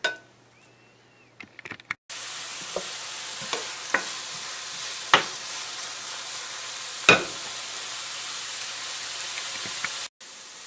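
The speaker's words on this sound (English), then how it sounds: "We're going to throw them in this little pan here and get them sauteed, but we're not going to brown them." Onions and peppers sautéing in olive oil in a small pan, a steady low sizzle with sparse clinks of a utensil against the pan.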